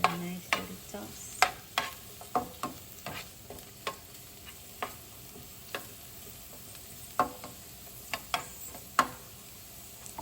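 Rice and shrimp with green onions being stir-fried in a pan, giving a faint steady sizzle broken by a string of sharp scraping and tossing clicks at an uneven rhythm.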